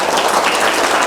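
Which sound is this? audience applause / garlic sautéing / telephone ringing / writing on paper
audience applause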